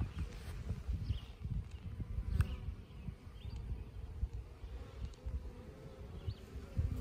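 Honeybees swarm around a top bar hive as a nuc is installed, giving a close, continuous low buzzing that swells and dips in soft waves with no talking.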